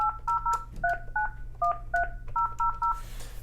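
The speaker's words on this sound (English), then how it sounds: "So we go ahead and dial the example number here." Touch-tone dialing beeps from a Yealink T27G VoIP desk phone as a number is keyed in: roughly a dozen short, crisp dual-tone beeps in quick clusters, close and clear over a faint hum.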